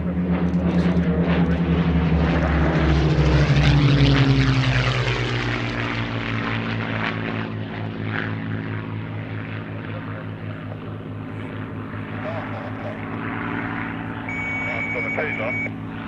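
A Gloster Gladiator biplane comes in to land at Shuttleworth, its propeller engine droning loudly and steadily with a slowly shifting pitch as it passes near, then easing off slightly.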